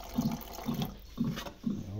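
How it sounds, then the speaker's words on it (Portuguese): Water pours into a pot being filled for cooking tripe, coming in four short splashing bursts at a steady rhythm, close by and moderately quiet. "Vou colocar isso aqui cheio d'água."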